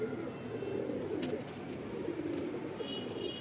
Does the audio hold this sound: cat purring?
no